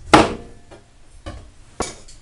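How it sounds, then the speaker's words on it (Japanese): A knife chops the stem off a papaya with one sharp cut, followed by two lighter knocks against the board, close and distinct with no talking. "ヘタを切り落として、"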